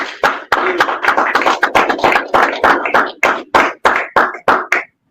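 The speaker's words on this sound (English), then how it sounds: "Let's give our brother Abdul another round of applause." Audience applause at a religious lecture after an opening address: loud, close clapping that comes in pulsing surges of about a dozen waves, with brief gaps near the end and no talking over it.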